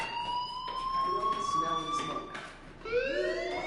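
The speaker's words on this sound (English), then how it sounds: "Hey, do you hear that fire alarm? That means you should be outside." A fire alarm rings in the video game Life is Strange, a steady high electronic tone that shifts in pitch, loud and continuous while a person talks over it.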